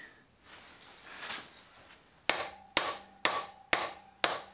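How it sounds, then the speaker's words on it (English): Five sharp, evenly spaced metallic hammer taps drive a rusty axle out of a BMW 1150GS motorcycle, each ringing briefly, after a quieter stretch of soft shuffling. "Just gently tap it. And that is pushing the axle out"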